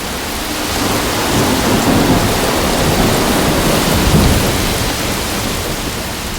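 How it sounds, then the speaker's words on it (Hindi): Steady, heavy rain pours down continuously, a dense hiss with a low rumble beneath it, no voices present. "बारिश मुझे बहुत पसंद है।"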